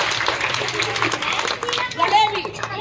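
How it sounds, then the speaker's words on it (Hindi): Classroom applause for a student, a short burst of many hands clapping unevenly, fairly close, with a teacher's voice speaking over it. "तालियां"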